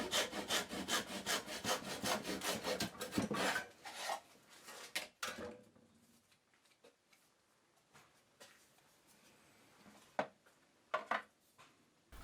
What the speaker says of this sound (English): I cut the other mitre.